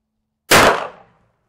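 A single loud 10mm shot from a Ruger Blackhawk revolver on a cold-weather outdoor range: one sharp crack with a short fading tail, standing alone in silence.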